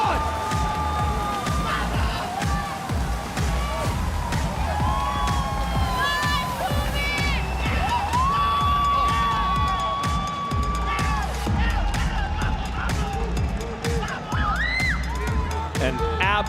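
A large arena crowd at the Clash Royale World Finals 2025 cheers and roars continuously, with electronic music and stage effects underneath, and a commentator talks over it.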